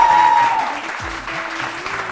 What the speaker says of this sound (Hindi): पहले तो इनके लिए बहुत सारी तालियां।